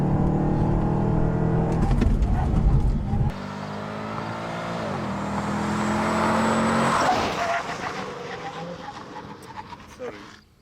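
A muscle car runs off-road, engine revving and droning up close with shifting pitch, a sharp cut in loudness partway through, then the motor easing off toward the end.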